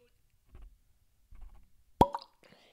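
A synthetic cork pops sharply out of a whiskey bottle once, a single loud close plop following a few soft handling rustles, with quiet movement afterward.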